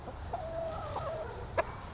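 A rooster clucks softly among his flock of chickens, a few short low calls close by over quiet background.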